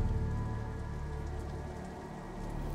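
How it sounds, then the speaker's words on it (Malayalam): Rain falls steadily in a Malayalam film scene, a dense, even hiss of drops on a surface with a low background hum. No talk is heard. "മഴ പെയ്യുണ്ടോ?"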